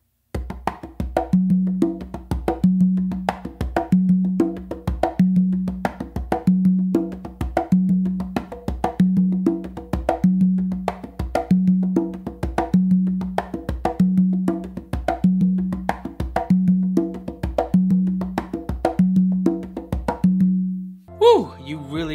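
A songo rhythm on two congas plays as one continuous groove of sharp slaps and ringing open tones, steady and close, stopping with a brief vocal whoop at the end.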